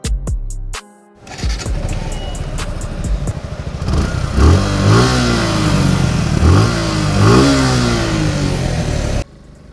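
A BS6 Suzuki Gixxer 155 motorcycle engine revs repeatedly on a highway, rising and falling in pitch as it accelerates through gears, loud and close with steady wind rush.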